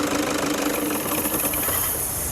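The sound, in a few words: Toyota Innova 2.5 V 2014 diesel engine running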